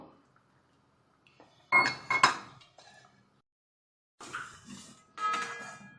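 A metal spoon scrapes and clinks against a pot of sugar syrup in a few short bursts, separated by quiet pauses.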